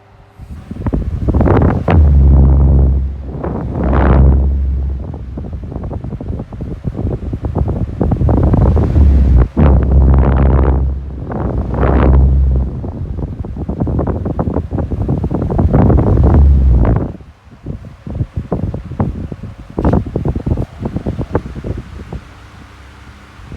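A 1995 CED 12-inch desk fan and a 1993 Astor 12-inch desk fan run in turn, giving a steady broadband whoosh of moving air with a low hum that swells and drops as settings change, then quiets near the end.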